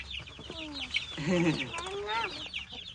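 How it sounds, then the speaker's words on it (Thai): Hens caught by hand for bagging and release at a rice field let out loud, drawn-out distressed squawks and clucks near the microphone, peaking in the middle, with overlapping calls and a dull outdoor background. "เอาไก่หน่อยกันเด้อเอาไก่หน่อย"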